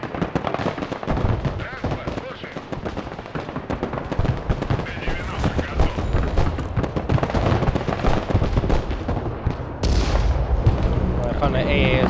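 Weapons fire in Broken Arrow, a modern military strategy game: dense, rapid bursts of gunfire and heavy artillery booms hammering almost nonstop, loud and close, with a bigger blast near the end and voices mixed in.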